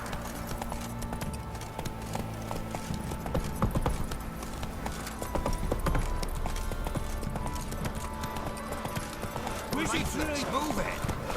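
Roach the horse gallops in The Witcher 3, hooves pounding in a fast, steady clip-clop rhythm that runs throughout, close and prominent amid game sounds and music, with a voice now and then.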